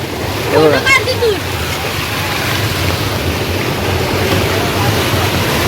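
Steady rushing clear water spilling down like a small waterfall at Sapteshwar in the Konkan, with a few voices briefly at the start.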